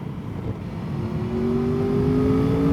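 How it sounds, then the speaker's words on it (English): Aprilia Tuono V4 Factory motorcycle engine and exhaust pulling steadily under throttle, a rising droning note that grows louder and fuller over a few seconds, with no talk. "you can feel the potential that is in this engine and exhaust note"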